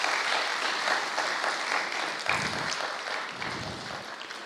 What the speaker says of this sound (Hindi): हम एक हाथ की ताली से उनका स्वागत करते हैं